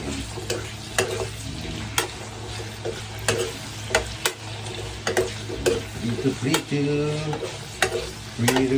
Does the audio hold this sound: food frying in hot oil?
yes